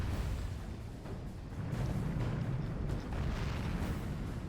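Medieval cannon bombards firing in a Medieval 2 Total War battle, a steady rumbling barrage of deep booms blending into continuous low thunder, with heavier surges of blasts throughout.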